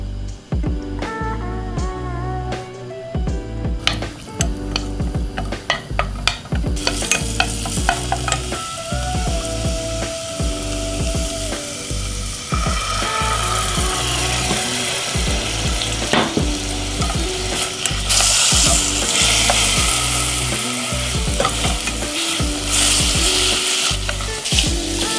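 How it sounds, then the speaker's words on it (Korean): Sliced, soaked shiitake mushrooms stir-fry in perilla oil, giving a loud, continuous close-up sizzle that grows fuller over time, with frequent spatula scrapes and clinks throughout. "이 표고를 들기름에 볶을 거예요"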